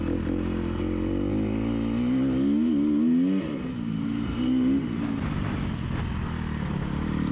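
Dirt bike engine roaring steadily up close as it rides the motocross section of a harescramble race course in Winterset, Iowa, pitch rising and falling with throttle changes, no talk.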